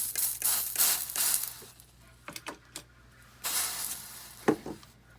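Several short, hissing bursts of spray in quick succession, then a few more spaced-out spritzes, fairly close and moderately loud with no talking.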